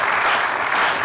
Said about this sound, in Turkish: Şimdi bir alkışlayalım, Bahadır gelsin.